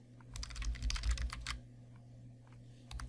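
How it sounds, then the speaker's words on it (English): Quiet typing on a computer keyboard, a quick run of soft clicking keystrokes followed by a few scattered taps, heard alone with no talking. "Let's start typing here."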